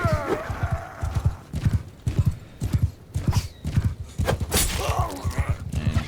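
Horse hooves clip-clop steadily and loudly in Bannerlord combat, a rhythmic gallop of repeated thuds with a neigh and clattering impacts over it.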